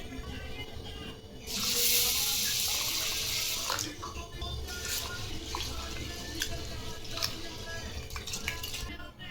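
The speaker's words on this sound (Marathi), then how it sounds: "आता 4 ते 5 वेळेस आपल्याला हे डाळ आणि तांदूळ स्वच्छ धुवून घ्यायचे आहेत" Lentils and rice being rinsed in water, with running water splashing from a tap and occasional clinks of a vessel at close range.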